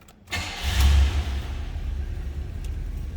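A 1983 Oldsmobile Delta 88 Royale sedan engine cranks and catches, revving briefly before settling into a steady low idle rumble.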